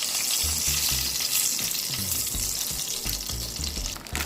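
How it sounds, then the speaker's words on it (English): A pot of water at a rolling boil on a home stove during pasta cooking, a steady close bubbling and sizzling hiss with soft rhythmic low pops throughout, no talking. "So the water is boiling."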